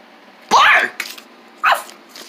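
People imitate a dog barking in two loud, sharp vocal yelps about a second apart, each with a short tail, close to the microphone in a quiet space.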